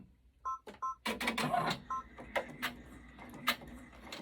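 An embroidery machine starts with a couple of beeps, then sews a tack-down stitch that holds appliqué material in place, giving a close, busy mechanical whirring and clattering with a few scattered clicks.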